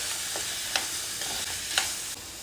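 Potatoes being stirred into fried onion paste in a pan, a steady sizzle with a few sharp spoon clinks and scrapes spaced through it.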